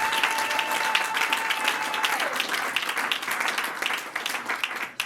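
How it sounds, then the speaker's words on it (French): A church congregation applauds in a dense, sustained burst of many hands clapping, filling the room with steady crackling applause that tapers slightly near the end, with a faint held tone underneath. "Applaudissez pour réveiller ceux qui sont en train de dormir."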